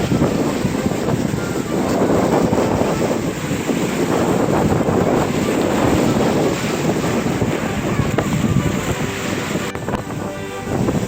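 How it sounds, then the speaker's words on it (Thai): Cool wind blows on Koh Poda island off Krabi, a steady, loud rush buffeting the microphone throughout, with a faint hint of surf underneath. "วันนี้ลมดีมากนะครับลมเย็นดี"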